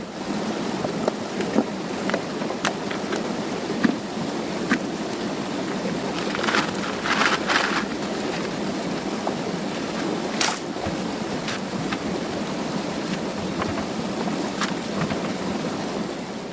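Steady rushing water from a small waterfall in a stream at a gold prospecting spot in Tyndrum, a continuous broadband wash with occasional small splashes and knocks, no speech.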